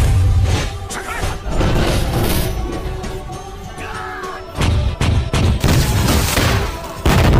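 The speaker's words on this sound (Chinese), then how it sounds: "兴龙子夺下大炮调转枪口" Cannon fire booms through a Qing-era martial arts film battle scene, with repeated loud blasts and crashes over a dense, continuous din of clashing chaos.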